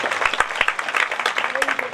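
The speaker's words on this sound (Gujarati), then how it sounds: "એકવાર તાળીઓના ગડગડાટથી." An audience at a Bhagavat katha religious gathering breaks into brief, lively clapping, a dense patter of hands close by, with a voice heard over it.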